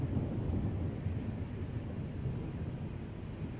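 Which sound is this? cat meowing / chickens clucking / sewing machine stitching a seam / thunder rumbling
thunder rumbling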